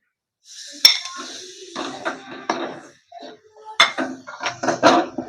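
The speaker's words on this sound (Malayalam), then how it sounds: "നമ്മൾ നേരത്തെ അരിഞ്ഞു വെച്ചിരിക്കുന്ന ഈ തക്കാളി തക്കാളിപ്പഴം കൂടെ നമുക്കൊന്ന് ചേർത്ത് കൊടുക്കാം" Chopped tomatoes going into a pan of crab curry, heard as a run of close metallic clinks and scrapes of utensils against the pan, irregular and sharp with short quiet gaps.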